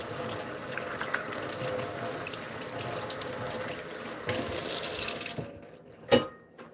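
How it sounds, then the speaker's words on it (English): Tap water runs steadily into a sink during handwashing, a continuous close splashing stream that swells briefly, then cuts off, followed by a single clunk. "My hands start to feel icky. I have to wash them."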